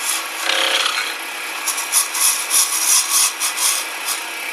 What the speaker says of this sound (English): Now you use your favorite tool, whether it's a spindle gouge or a skew or whatever, to shape.